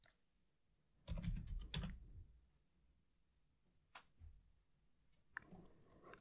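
Quiet keystrokes on a computer keyboard while typing a short command into a Linux server terminal, a brief cluster of clicks followed by a few isolated taps, close and soft.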